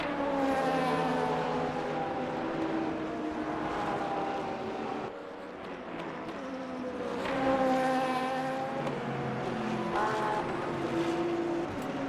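Several LMP2 prototype race cars in Le Mans Ultimate at the Circuit of the Americas scream past in a multi-class race, engine notes rising and falling as they sweep through and overlap, loud and continuous with a brief dip between passes.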